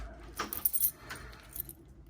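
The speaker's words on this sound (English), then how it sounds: "Got the keys." A bunch of keys jangles up close in a few quick metallic bursts while an eBay package containing an old lock and key is unboxed; no one speaks.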